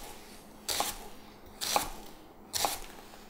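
A kitchen knife chops through an onion in three separate strokes, each roughly a second apart. The chops are quiet and crisp in a calm room.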